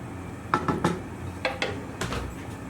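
Chickpeas and meatballs stirred into soup in a pot produce a few scattered clinks and scrapes of a utensil against the pot, close and fairly quiet, with no talking.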